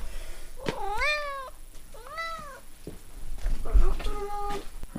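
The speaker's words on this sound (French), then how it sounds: "Le chat." A house cat meows three times at home in the morning, drawn-out rising and falling calls, close and clear, with household noises and a voice nearby.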